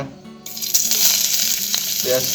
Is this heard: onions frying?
yes